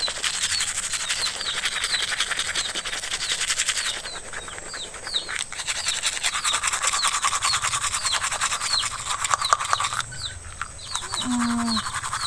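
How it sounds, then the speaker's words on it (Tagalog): A toothbrush scrubs teeth in quick, steady back-and-forth strokes, a close, continuous bristly scratching that pauses briefly and resumes, with faint bird chirps in the background. "Toothbrush na."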